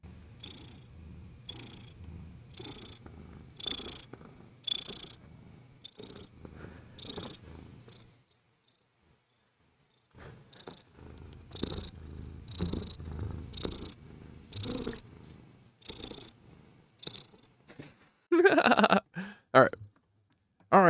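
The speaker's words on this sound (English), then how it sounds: "Can you hear her purring?" A cat purrs close up in steady rhythmic pulses, broken by a quiet pause midway, before a louder rustle or bump near the end.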